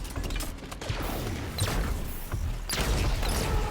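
Grenade blasts and gunfire in the Halo 5 campaign video game, a dense, steady rumble of battle noise with several louder crashing bursts and no talking.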